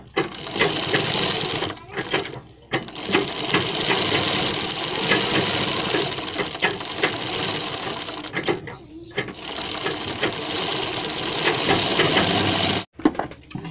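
A sewing machine runs in long, steady bursts of rapid mechanical stitching while sewing a collar-style neck design on fabric, stopping briefly a few times before starting again, close and loud.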